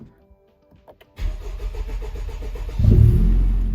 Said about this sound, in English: We're gonna go and start it up for the first time.